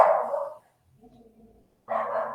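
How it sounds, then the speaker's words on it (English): Dogs barking indoors at someone passing outside, two loud close bursts of barks separated by a brief quieter whine, with no talking. "the dogs are barking."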